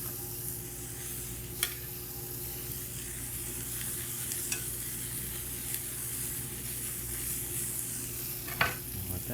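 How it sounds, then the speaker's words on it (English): Beyond sausage sizzles loudly and steadily in a hot pan, a dense continuous hiss with a few sharp pops and spatters. "we're going to go ahead and add in the Beyond sausage"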